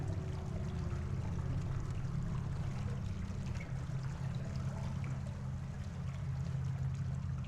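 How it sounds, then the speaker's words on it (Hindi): In the horror game The Mortuary Assistant, water fills in as a soft, continuous trickling flow that stays quiet and even throughout. "जब हम लेके चलते हैं तो वो पानी पानी भर जाता है"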